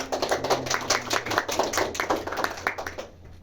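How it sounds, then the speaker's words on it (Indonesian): A classroom applauds a student's answer, with dense clapping from many hands that runs for about three seconds before it quickly dies away. "tepuk tangan untuk Mbak Kasina."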